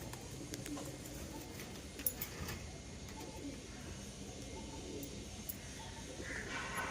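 Andhra pigeons cooing softly in a loft or coop, a low steady murmur of coos running throughout at moderate distance, with faint chirps and background noise.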